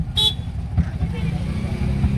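Passengers ride inside an auto-rickshaw heading to an engagement with a banjo band: a brief bright horn toot near the start, then a steady rumbling engine and road noise.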